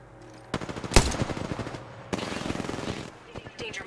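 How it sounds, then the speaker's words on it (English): Rapid bursts of video game gunfire, two sustained automatic volleys of sharp close shots with a loud crack between them and scattered single shots trailing off, with a voice faintly underneath. "I think someone's targeting me. Getting shot at."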